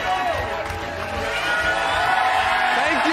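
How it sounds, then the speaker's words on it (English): A bowling crowd at a PBA Cheetah Championship cheers and whoops loudly and steadily throughout, with scattered shouts and clapping mixed into the dense roar. "This crowd is crazy."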